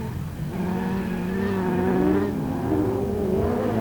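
Autograss race cars circle a dirt oval track, engines droning loudly and continuously with rising and falling revs as they pass, a steady roar with no gaps.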